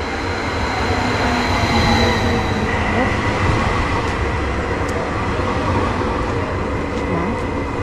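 Steady, loud rumble of a train ride in Helsinki, heard from inside the carriage with constant wheel and track noise and a few faint squeals toward the end.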